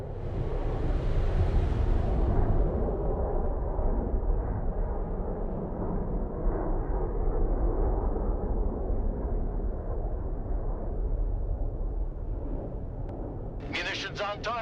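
Munitions from a Harrier strike detonate on target in the tactical RTS game Broken Arrow, producing a sustained, loud rumbling roar that holds steady throughout, with a brief bright chirp near the end.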